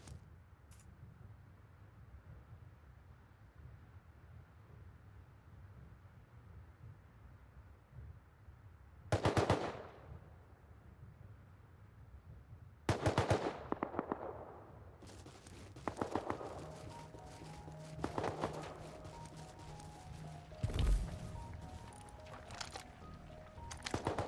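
Gunfire in the survival video game Rust sounds as several sharp separate shots over a steady low background hum, followed by a busier stretch of scattered, moderately loud bangs and clatter.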